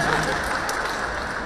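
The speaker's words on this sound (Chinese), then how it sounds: "我们给点热情的掌声" Warm audience applause fills a stage show at the 2019 Weibo Night gala, a steady, dense wash of clapping from a large crowd that holds evenly throughout.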